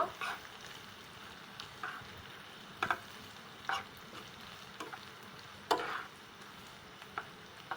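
Beef and fried potatoes sizzle quietly in a pan while a spoon stirs them together, with sharp scraping clacks against the pan arriving every second or so over the soft, steady frying hiss.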